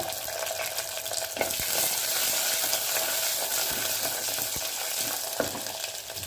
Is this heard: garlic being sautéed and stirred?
yes